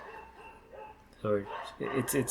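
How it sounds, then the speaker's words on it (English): Dogs barking outside a door, a couple of close, loud barks and yips in quick succession after a quieter stretch, heard alongside talking voices. "The dogs outside our door don't quite seem to."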